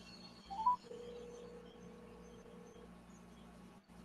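A telephone dial tone hums steadily for a couple of seconds, preceded by a brief keypad beep, faint and close, as a call is placed with no one talking.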